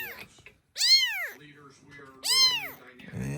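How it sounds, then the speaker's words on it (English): A four-week-old kitten cries out in two loud, rising-and-falling meows close by, separated by a pause with some low background noise. "there's a kitten desperately crying outside"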